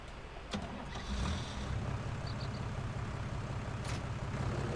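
A tractor engine in Farming Simulator 19 on PS4 starts with a brief mechanical click and catch, then settles into a low, steady idle rumble close by, with no talking.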